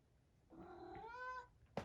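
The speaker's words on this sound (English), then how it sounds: "Sorry about my cat." A house cat lets out one close, drawn-out meow that rises and wavers for about a second in a quiet room, followed by a brief click.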